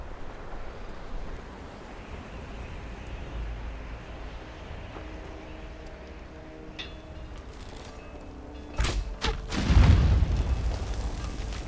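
Explosives detonate on a tier 2 foundation base in Conan Exiles, heard as a couple of sharp cracks followed by a deep loud rumbling boom after a stretch of low windy ambience.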